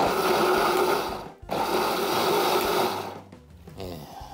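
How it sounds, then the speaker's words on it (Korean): A blender grinding red chili peppers for spring cabbage kimchi, a loud steady motor whir in two pulses with a brief stop between them, close and with no talk. "살짝 갈아줍니다."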